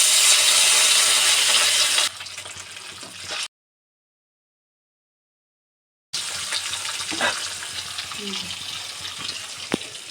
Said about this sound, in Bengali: জয় এখন মাছ ভাজতে বসেছে